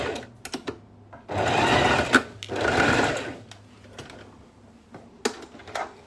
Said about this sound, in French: on vient de faire la deuxième surpiqûre